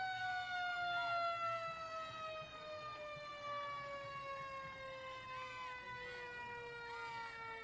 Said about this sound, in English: let's hear the siren